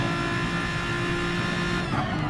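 A race car engine in a sim racing league event at the Red Bull Ring holds a steady, loud mid-pitched drone as the driver gets on the power, with a brief shift in tone near the end.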